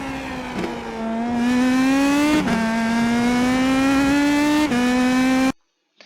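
An IndyPro2000 open-wheel race car in the iRacing sim circles Laguna Seca, its engine droning loud and steady with pitch swells and two sharp gear-shift breaks before cutting off abruptly.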